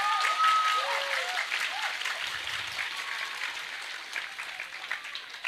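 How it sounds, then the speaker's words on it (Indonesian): An audience claps for the santri at a religious talk, with dense, steady applause that starts loud and slowly thins out, plus a few voices mixed in. "Maka tepuk tangan untuk para santri."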